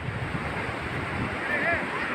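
Ocean waves wash steadily at Gokarna Main Beach in Karnataka, with soft continuous surf and wind noise forming a low, even rush.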